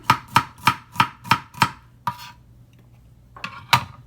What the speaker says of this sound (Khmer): ខ្ទឹមស្រស់កាត់ទៅ Garlic clove